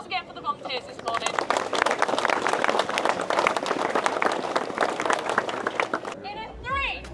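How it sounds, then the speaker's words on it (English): Outdoor applause and cheering from a parkrun crowd for the volunteers at Beacon Park in Lichfield: dense, steady clapping for several seconds, with voices before and after. "Huge round of applause again for the volunteers this morning."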